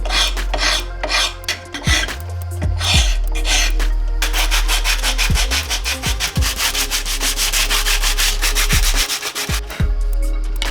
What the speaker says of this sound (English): So I've got a little more smoothing to do on the inside edges